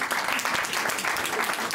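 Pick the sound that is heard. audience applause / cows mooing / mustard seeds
audience applause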